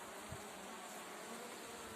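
Steady, dense buzzing of bees close by, continuous and even throughout with no voices.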